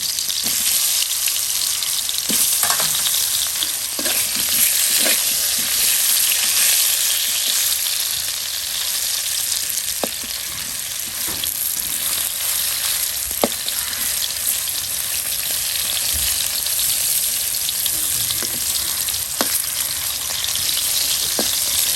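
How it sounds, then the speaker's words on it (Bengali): Pieces of pointed gourd (potol) frying in oil in a pan, cooked village style, giving a steady close sizzle with occasional pops and light stirring clicks throughout. "পটলগুলো অল্প করে ভাজবো।"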